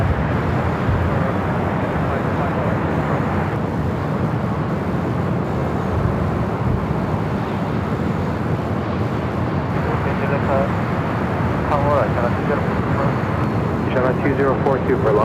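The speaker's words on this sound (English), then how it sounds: "Lufthansa Flight 452 coming in from Munich." Lufthansa flight 452 from Munich landing at Los Angeles airport, a continuous broad roar of jet engines and rushing air from a distance, steady and moderately loud throughout.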